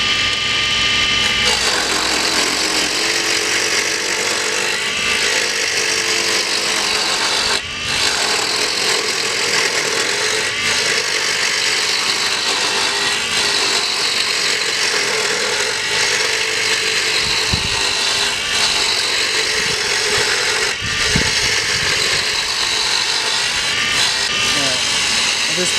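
A wooden fishing rod handle spins while being carved and shaped, giving a continuous whirring drone with scraping and rubbing of the wood, close and steady with a brief break partway.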